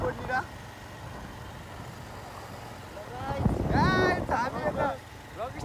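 A motorbike speeding along, heard as a steady low engine drone with rushing wind buffeting the microphone, swelling louder toward the end while people talk over it.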